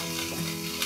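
Small soya chunks frying in a pan until lightly golden, a brief, close, steady sizzle with no talking.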